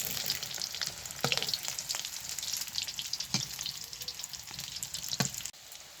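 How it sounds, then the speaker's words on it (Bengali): Fish roe fritters frying in hot soybean oil give a steady, close sizzle and crackle, with a few sharper pops and stirring taps spaced through it. The sound stops abruptly at the end, and no one speaks. "এই বড়াগুলো এবার তেলে দিয়ে ভেজে নেব"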